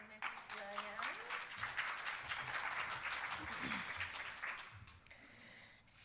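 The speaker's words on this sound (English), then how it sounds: "Let's give another round of applause for Mrs. Williams." Audience at a blood pressure symposium applauds in a dense, steady wash of clapping that lasts several seconds, with voices mixed in at the start before the clapping fades out.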